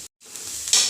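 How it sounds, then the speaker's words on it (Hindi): Wheat flour and drumstick leaf snack mixture sizzling in hot oil while being stirred, a steady close frying hiss that swells briefly near the end after a short silent gap. "मीडियम टू हाई फ्लेम करने के बाद इसे चलाते हुए फ्राई करेंगे"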